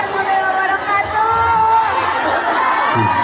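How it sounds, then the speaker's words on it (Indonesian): Indoor crowd at a film star's appearance in Surabaya cheering and clapping, a dense continuous roar of voices and whoops with applause, loud and close throughout. "Tepuk tangan dong buat dunia bara dong"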